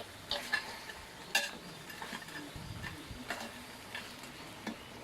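Honey pork ribs frying in an iron wok, a steady sizzle broken by metal utensil scrapes and clinks as they are stirred, close and without talk.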